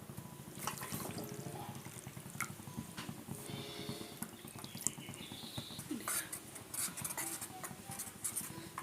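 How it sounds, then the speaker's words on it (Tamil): Water is poured into a bowl of cornflour and stirred to dissolve it while making tomato kadayal, giving soft close splashing, dripping and light utensil clinks that run steadily throughout. "இப்போ வந்து தண்ணி ஊற்றி நல்லா கரைச்சி விட்டுக்கலாம்."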